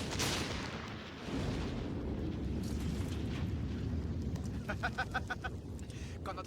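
Artillery fire and heavy explosions in a Stalingrad war film, a dense continuous rumble of distant booms with sharper repeated cracks near the end, under a voice.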